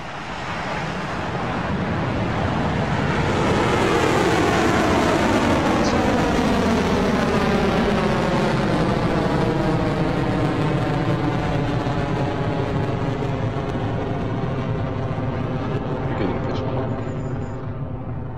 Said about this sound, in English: And we have liftoff.